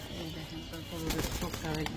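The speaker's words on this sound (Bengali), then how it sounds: "দেখেন খুবই সুন্দর এক জোড়া পাখি কবুতর" A pair of pigeons cooing at a close distance in soft, low repeated calls, faint against background noise, with a person talking nearby.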